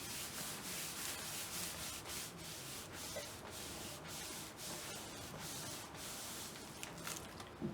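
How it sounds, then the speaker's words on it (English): Paper pages are rubbed by hand onto a wet stencil to lift leftover spray, a soft continuous scuffing and brushing with steady strokes, quiet and close. "lay some pages on top of it and rub it on real nicely to get that remainder liquid off"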